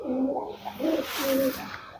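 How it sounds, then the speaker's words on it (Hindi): Kalmue pigeons, a 150-year-old breed kept by Ustad Shafi, give several soft, throaty coos in a rhythmic series, close and clear with no talking. "ये हैं कलमुए कबूतर"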